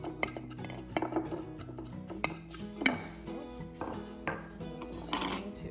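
A wooden packer mashes cabbage down in a container for Latin curtido, making a series of close knocks and clinks with an uneven rhythm against a quiet background.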